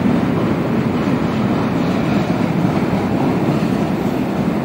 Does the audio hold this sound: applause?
no